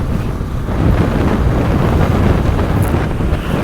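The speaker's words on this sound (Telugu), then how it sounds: "గాలి అయితే విపరీతంగా కొడుతుంది." Strong gusting wind roars across the microphone during a motorbike ride on a highway bypass toward Ongole, a loud, unbroken low buffeting with no speech.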